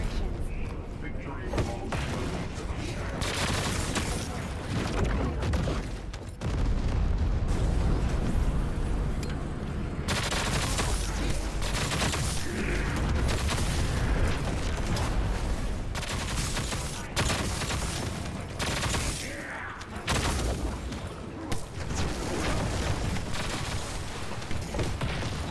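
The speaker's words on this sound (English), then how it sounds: "Electric condense causes the explosion." Explosions and gunfire from the video game The First Descendant, with an electric condense ability triggering a blast, fill the clip as a dense, loud, continuous barrage of shots and booms under occasional talk.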